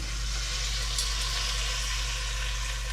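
Chicken fries in a pan with a continuous, even sizzle and crackle, close and moderately quiet, over a low steady hum and with no one speaking.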